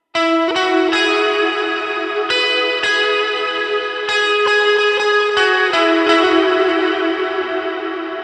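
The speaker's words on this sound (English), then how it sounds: "That reverb is very ambient. I usually just save that for swells." Electric guitar chords ring out one after another, each washed in a long, spacious reverb that lets notes swell and linger.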